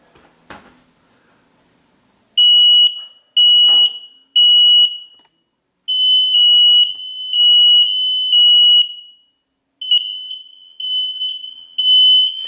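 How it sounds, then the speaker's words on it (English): A smoke alarm just reset on a ceiling fixture beeps in loud, piercing high-pitched bursts, a few short chirps first and then longer sustained tones with brief gaps, after a quiet start with a faint click. "now I've got to reset the smoke alarm"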